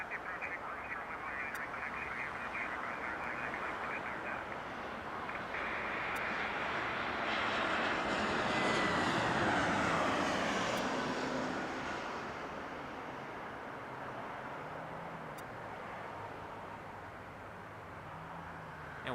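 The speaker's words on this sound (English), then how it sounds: "And we have Spirit coming in." A Spirit Airlines airliner arriving at Las Vegas Harry Reid International Airport swells from a distant jet roar to a loud, broad whooshing pass, then fades back to a steady rumble.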